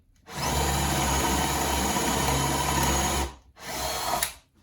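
A sander shapes a wooden part for a handmade wooden robot. It runs loud and close in a long burst of about three seconds, stops briefly, then runs again in a short second burst.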